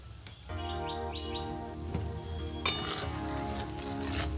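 Teasel gourd (kakrol) sautéing in hot oil with a pinch of asafoetida and a splash of water, a steady close sizzle with faint clinks and a brief sharp scrape partway through.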